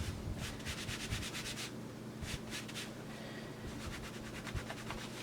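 Chalk marking being rubbed off fabric by hand, a steady close scratchy brushing with rhythmic strokes of rougher friction and no talking.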